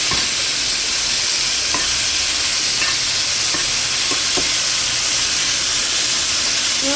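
Boiled bitter gourd pieces fry loudly in a pan with dry red chillies and curry leaves. A steady close sizzle continues throughout, broken by a few scattered clinks of stirring.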